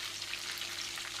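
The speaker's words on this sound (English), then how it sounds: "chicken is currently frying" Chicken for sweet and sour chicken frying in hot oil, a steady, dense sizzle with continuous crackle that holds evenly throughout, close and alone without any voices.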